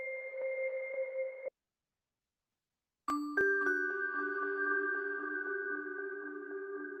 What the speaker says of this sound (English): It's kind of goofy, kind of a toy piano sort of sound I'm looking for.